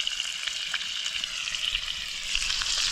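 Fresh bacon sizzling as it fries over an open cooking fire in an off-grid garden, a steady bright crackle and hiss that swells slightly toward the end.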